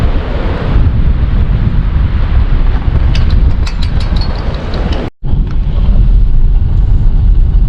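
Strong, gusty wind roaring steadily into the microphone outdoors near a state park campground, loud and continuous with a brief dropout, no talk.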